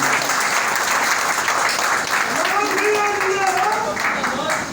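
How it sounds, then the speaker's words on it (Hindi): Crowd of townspeople at a public event in Goshainganj clapping steadily in dense, continuous applause, with a voice and tonal sounds rising over the clapping. "मेरा निवेदन एक बार ताली बजा करके उनका उत्साह दें।"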